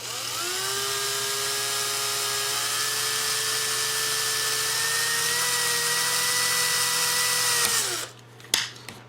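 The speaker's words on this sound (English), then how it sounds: "And I'm just going to start drilling." A power drill drilling a pilot hole whines at a steady high pitch for several seconds, close and continuous, then spins down and stops, followed by a couple of clunks.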